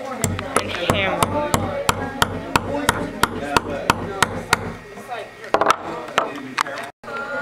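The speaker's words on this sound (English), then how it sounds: "And then insert the axle into the wheel and hammer." An axle being hammered into a wheel of a wooden-bodied solar racer kit, heard as a rapid, evenly spaced series of sharp, close knocks that falters and stops, then a few last taps.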